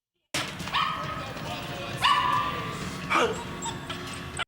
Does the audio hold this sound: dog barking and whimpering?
yes